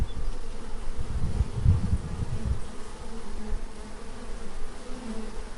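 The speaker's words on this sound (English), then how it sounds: "you'll notice the bees. Perhaps you'll see a bumblebee" Bees buzzing steadily through an outdoor scene, a continuous low drone that swells louder for a moment near the start, then settles into a softer, sustained hum with no voices.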